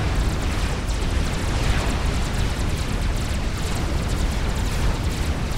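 A Megalith unit explodes in the Forged Alliance Forever strategy game, a dense, sustained rumbling blast with crackling debris that stays loud and steady throughout, with no talk.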